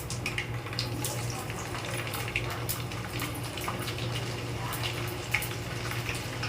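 Onions go into a hot pan for sambar and fry with a steady, fairly loud sizzle and crackle that continues throughout, with light stirring noises on top.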